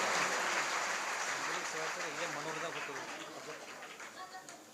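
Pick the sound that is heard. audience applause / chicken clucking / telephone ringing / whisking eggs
audience applause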